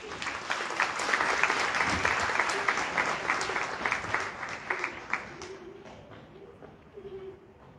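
Audience clapping for a poetry recital by Moncho Azuaga, dense applause that fills the room at first, then thins into scattered claps and fades out, while a pigeon coos faintly in the background.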